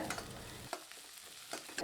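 Onions, green chilies and curry leaves frying in hot oil, a steady soft sizzle with a few stirring scrapes of a spoon against the pan.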